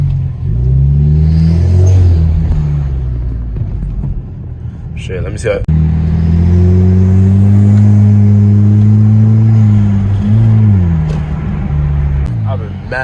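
A straight-piped turbocharged Hyundai Sonata with its muffler deleted revs loudly and close up, its exhaust drone swelling and falling in a few pulls while someone talks over it.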